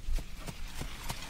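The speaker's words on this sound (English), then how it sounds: "A horse-drawn cart passes us by" Hooves of a horse pulling a cart, a steady clip-clop of four evenly spaced footfalls over a constant background hum, no talking.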